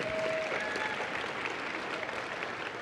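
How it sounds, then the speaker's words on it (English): Steady audience applause fills a room at a literary evening event, dense and continuous clapping from a crowd throughout, with a brief tonal tone near the start. "Round of applause, please"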